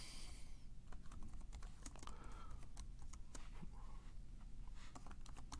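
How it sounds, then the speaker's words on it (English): Steady, rapid clicking of keys on a computer keyboard, close and continuous, with a few louder key strikes over a low background hum and no speech. "Can you tell I'm typing?"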